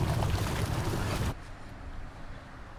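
A MasterCraft boat powered by a 6.2 liter Ilmor 430 horsepower engine roars loudly nearby at a water-ski jump event, its broad engine and water noise cutting off abruptly, leaving quieter wind and ambience.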